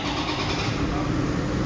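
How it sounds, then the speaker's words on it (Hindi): A 2004 Toyota Land Cruiser engine catches and runs with a dense, steady mechanical roar throughout, loud and close, with no clear separate crank. "गाड़ी को मैं अभी स्टार्ट करता हूँ"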